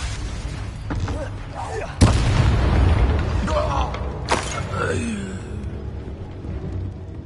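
Confringo blasting spell from Hogwarts Legacy erupting in loud booming explosions, one sharp heavy blast followed by a second burst a couple of seconds later, over a rumbling game soundscape with creaking mechanisms and voices.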